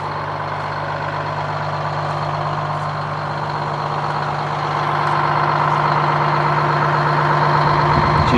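A Detroit Diesel two-stroke engine in a White 4000 semi truck idles with a steady low rumble and rattling hum, growing slightly louder toward the end.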